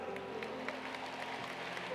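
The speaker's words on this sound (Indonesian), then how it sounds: "berikan tepuk tangan" An audience at a GMS church conference applauds in a steady, dense wash of clapping that fills the hall for a couple of seconds.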